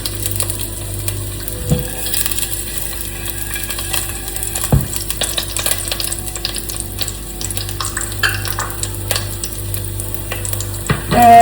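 Garlic and vegetables sizzling in a wide-bottomed pan for a vegetable broth, a steady close frying hiss with occasional clinks of a utensil against the pan, no voices.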